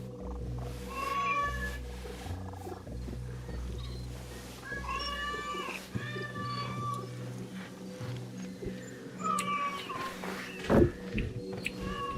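A cat in the video game Assassin's Creed Shadows meows repeatedly, a series of clear, close, plaintive calls spread across the stretch over a low ambient game soundscape, with a brief sharp knock near the end.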